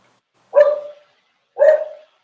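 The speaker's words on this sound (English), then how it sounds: "is the sound of the barking coming across very, very clearly?" Two loud, sharp dog barks, about a second apart, close by with silence around them.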